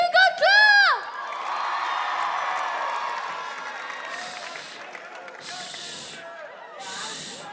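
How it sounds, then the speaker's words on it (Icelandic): A crowd at the Vælið 2025 show cheers loudly, with high whoops and shouts at the start that fade into a sustained roar of voices and clapping, then brief bursts of bright cheering. "Gefum gott klapp!"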